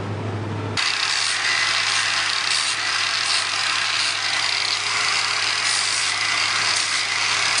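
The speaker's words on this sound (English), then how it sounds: "I'll hit them with the sander." A power sander drones loudly and continuously, smoothing chainsaw-carved wooden eagle wing feathers, with a steady whirring texture and slight rhythmic fluctuation after it starts up.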